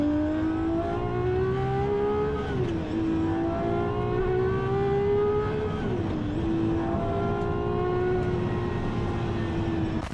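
A Gordon Murray car's naturally aspirated V12 engine revs loud and close, a sustained high whine that climbs, dips twice and climbs again, running steadily throughout with no talk.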